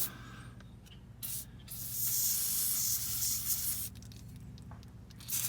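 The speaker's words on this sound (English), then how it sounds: "spray both plugs with some PB Blaster" Bursts of PB Blaster penetrating oil spray hissing in short blasts onto Volkswagen Jetta TDI transmission plugs, the longest lasting a couple of seconds, close by over a low background hum.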